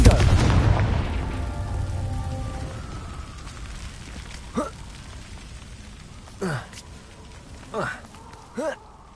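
A Confringo blasting spell from Hogwarts Legacy detonates with a loud booming burst right at the start, then its rumble fades away, followed by a few short, sharp sounds further on.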